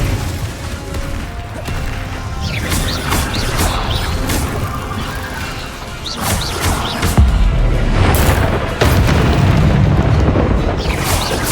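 Confringo, an explosive spell cast in the video game Hogwarts Legacy, lands as a string of sharp booming bursts, roughly seven over the stretch, loud and close above a dense, continuous game soundscape.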